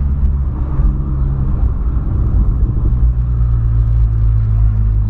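A VW Polo with a sports exhaust gives off a loud, deep, steady rumble close by, holding a sustained idle-to-rev drone throughout.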